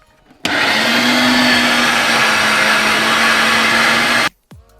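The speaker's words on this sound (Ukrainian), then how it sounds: "Шматочком хліба прибираємо фарш з м'ясорубки." An electric meat grinder mincing meat, a loud steady motor whine starting abruptly, running evenly for about four seconds, then cutting off sharply, followed by a brief clatter.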